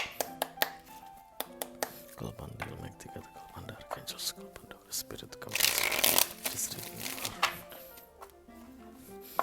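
Tarot cards shuffled for a reading in a series of close riffling and tapping sounds, with one louder rush of cards, against a quiet background; no clear talking.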